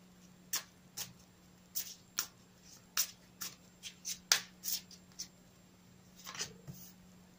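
Cards are shuffled in quick, crisp riffles and snaps, quiet and close, over a faint steady hum, with no one speaking.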